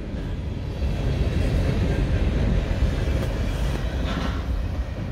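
CSX freight manifest train rolling past at Newburgh, New York, with Tropicana juice cars, a steady loud rumble of wheels on rail with faint clatter throughout.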